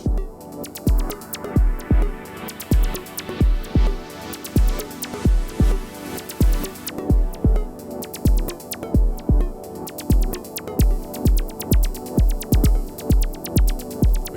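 A pulsing synthesizer pattern with a steady rhythmic thump, its bright upper tones opening and closing as the filter sweeps up and back down, no voices.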